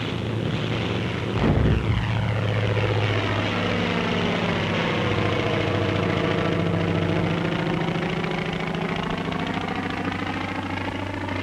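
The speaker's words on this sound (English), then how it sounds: "Aircraft leave the flight decks during extensive attacks that softened up the Central Pacific targets for amphibious operations." World War II propeller carrier aircraft taking off from a flight deck off Saipan in 1944, a loud continuous engine roar whose pitch shifts as planes pass, with no voices.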